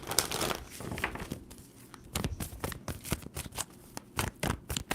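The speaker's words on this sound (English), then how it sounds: "2 more shuffles for Cancer" Tarot cards riffle and slap in quick shuffling bursts, a papery flutter followed by several sharp taps, close and fairly quiet.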